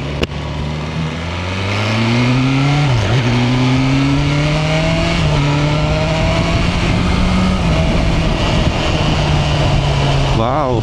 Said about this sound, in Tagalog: First ride, BMW S1000R.